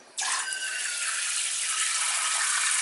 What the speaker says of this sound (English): Alright, I'll just put some water in there.